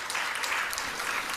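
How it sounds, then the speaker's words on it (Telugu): Congregation hands clapping in praise of God during a Telugu sermon, a moderately distant, steady patter of many hands with a few sharper claps standing out, no talk over it. "ఒకసారి చప్పట్లు కొట్టి దేవుని స్తుతిద్దాం"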